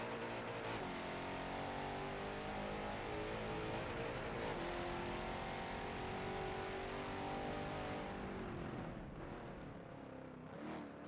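Race car engine in a Forza Racing Series lap at Circuit de Spa-Francorchamps, loud and continuous, revving and shifting through the final turn, then fading and easing off near the end.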